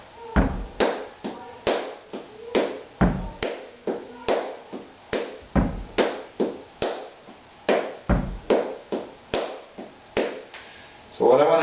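Close, crisp flamenco bulerías handclaps in a six-beat cycle, with louder accented claps on the second and fourth beats and softer, pulled-back claps between them, alongside occasional low foot thumps, repeating steadily throughout.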